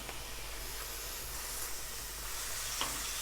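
Mushrooms fry in oil in a pan, giving a soft, continuous sizzle and hiss with faint stirring clicks and no voices.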